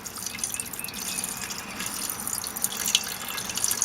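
Distilled water is poured into a container already holding nitric acid for refining sterling silver, giving a soft, steady splashing trickle with faint dripping and no talk.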